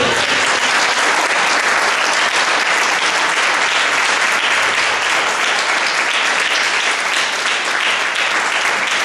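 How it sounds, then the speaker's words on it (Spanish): A congregation at a church retreat in Fajardo breaks into loud, sustained applause, a dense unbroken wash of clapping filling the hall throughout, with faint voices mixed in. "dar un fuerte aplauso al Señor"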